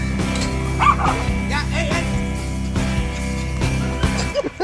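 Guide's dogs at a dog training place on Mexico's Pacific coast barking and yipping repeatedly, loud and close, with whimpers mixed in.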